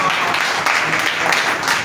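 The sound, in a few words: congregation clapping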